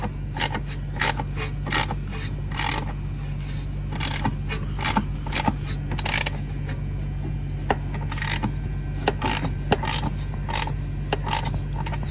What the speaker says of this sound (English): Let's tighten this other guy up there.